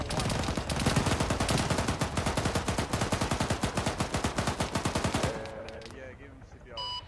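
Sustained automatic gunfire in Arma 3 hammers out in a fast, even rhythm of loud shots for several seconds, then cuts off, leaving faint background tones.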